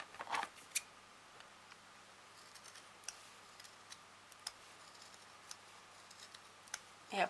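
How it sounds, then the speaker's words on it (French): Scissors cut through fabric in a quiet room, giving a series of small, sharp snips spread unevenly over several seconds, with a louder rustle at the start and end. "Et vous passez votre paire de ciseaux ici et vous coupez."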